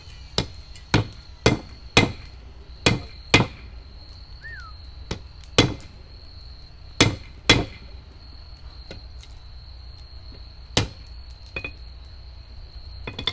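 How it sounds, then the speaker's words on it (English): Blacksmith hammering hot iron to forge weld a ram's head, a string of sharp, ringing hammer strikes landing at an irregular rhythm, close and distinct, with quiet pauses between groups of blows and a faint steady hum underneath. "We're going to get it forge welded tonight"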